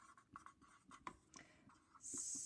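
A pen writes a number on paper in quick, close scratchy strokes with small pauses, followed by a brighter rustle at the end.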